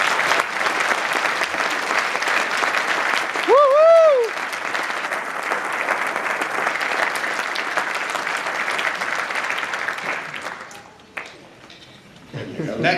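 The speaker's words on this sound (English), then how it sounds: "Please join me in applauding their efforts." An audience claps for nursing graduates at a ceremony, a full continuous round of applause with a brief tonal whistle-like sound partway, fading out near the end before a voice begins.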